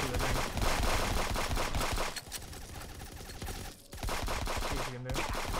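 Gunfire in a multiplayer shooter game, dense rapid automatic bursts that stop briefly and resume, loud and close, with a short sharper burst near the end.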